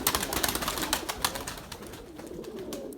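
Domestic pigeons coo steadily at close range in a loft or coop, soft repeated throaty calls overlapping one another with no talking.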